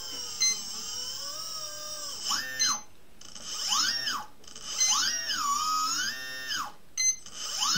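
A small electric motor on a model boat build spins up under throttle, giving a high whine that repeatedly rises and falls in pitch as the throttle changes, with brief gaps between bursts and no talk.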